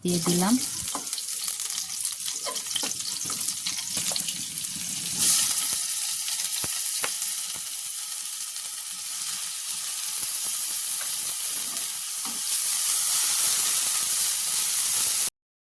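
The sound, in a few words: onions frying in a wok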